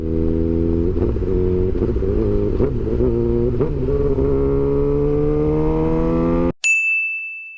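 A motorcycle engine revs loud and close, its pitch climbing steadily through the gear, then cuts off abruptly; a sharp metallic ding rings out alone at the end.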